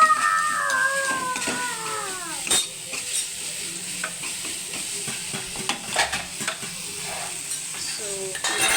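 Curry leaves crackle and sizzle in hot oil while a beans palya is stirred, a steady frying hiss broken by scraping stirs and spattering pops, close and fairly loud.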